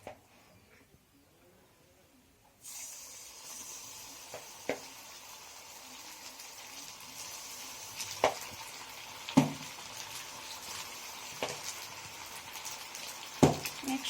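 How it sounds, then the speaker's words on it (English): Macaroni hitting hot oil, near silence until a sudden steady sizzle starts a few seconds in and keeps bubbling, broken by occasional sharp pops and the clink of stirring. "Now we fried them."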